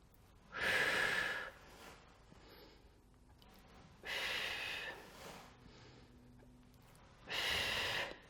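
Three strong, close breaths during an abdominal exercise on a Swiss ball, each a forceful airy blow about a second long, separated by quiet pauses with softer intakes.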